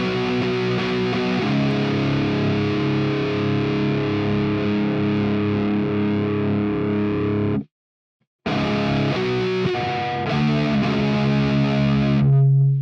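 Heavily distorted electric guitar playing a riff from a song, loud and sustained with thick chugging chords, cutting out briefly near the middle before resuming.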